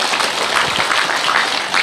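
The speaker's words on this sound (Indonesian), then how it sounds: "Tepuk tangan buat anak kita yang satu." Audience applause for a child at an Islamic religious lecture (ceramah) in Jakarta, a dense, steady wash of clapping from a crowd lasting the full moment with no talk over it.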